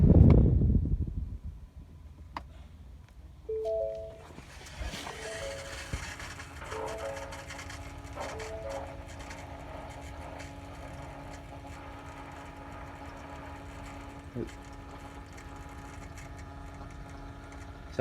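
After a fuel filter change, the electric fuel pump on a 2018 Ford F-350 with the 6.7L diesel primes, a faint steady whir and hum with a few brief tones, close but quiet.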